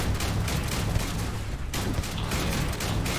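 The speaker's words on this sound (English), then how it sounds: "I am opening fire." Sustained gunfire in Starfield, a dense, loud burst of overlapping shots and crackling impacts with only a brief lull midway.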